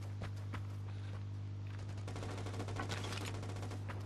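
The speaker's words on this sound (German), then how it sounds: "Die Schüsse, die wir jetzt hören, kommen auf jeden Fall unten vom Damm." Rapid bursts of gunfire in the video game Vigor on PS5 crackle in the distance, automatic volleys and single shots, over a constant low electrical hum.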